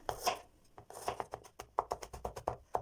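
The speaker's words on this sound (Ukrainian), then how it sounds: "Нарізаю часник." Rapid knife chopping of garlic on a cutting board, a quick series of sharp taps with short pauses, close and fairly quiet.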